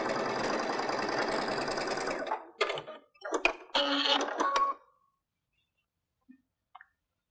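A sewing machine stitches patchwork fabric for a stocking in a steady whirring run of about two seconds, then a few short stop-start bursts before falling quiet, with faint clicks at the end.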